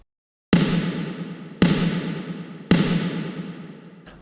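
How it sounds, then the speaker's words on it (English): Three loud snare drum hits spaced about a second apart, each followed by a long washy reverb tail that rings on and runs into the next strike, with a fourth hit just starting at the end. "the reverb tail was then bleeding into the next snare hit."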